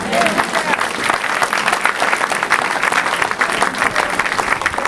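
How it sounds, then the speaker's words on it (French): A church congregation applauds and cheers for the Lord in a dense, sustained wave of clapping that carries through the whole stretch. "On acclame le Seigneur ici."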